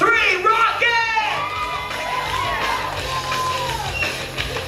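Audience at a hypnosis show laughing, whooping and cheering, a lively crowd roar with scattered yells and shouts that stays loud throughout.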